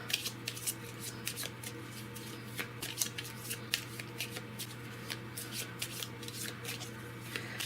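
A deck of game cards for the Etherfields board game is shuffled in a steady run of crisp riffling bursts and soft slaps, close by, over a low constant hum.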